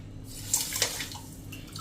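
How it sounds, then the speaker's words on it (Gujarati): Water poured from a cup onto sugar in a pan to make syrup for carrot rasgulla, a soft close splashing swish with a couple of brief sharper splashes, no talk. "એમાં આપણે 4 કપ જેવું પાણી નાખી દેશું"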